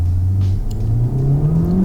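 Turbocharged Honda Civic Type R engine revving under acceleration, a loud, close low drone climbing steadily in pitch as the revs rise, with no talk over it.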